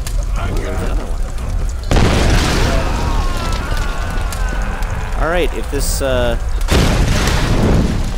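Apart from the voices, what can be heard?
explosions in Tomb Raider video game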